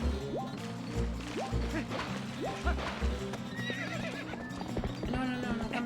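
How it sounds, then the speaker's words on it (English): A horse in the Legend of Zelda: Twilight Princess video game neighs and whinnies repeatedly over rhythmic clip-clopping hooves and game music, loud and busy throughout. "That horse has seen some things."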